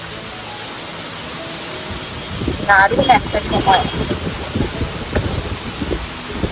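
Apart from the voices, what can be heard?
rain falling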